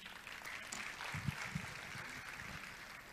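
Audience applause inside a church, a steady, moderate patter of clapping with a few heavier low thumps, fairly even throughout with no voices over it.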